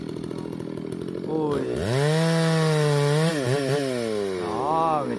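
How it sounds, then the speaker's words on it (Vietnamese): A chainsaw cutting down a rubber tree in a garden revs and bogs, its whining engine pitch rising and falling loudly and close, while a person briefly exclaims. "người ta đang cưa cây các bạn thấy không?"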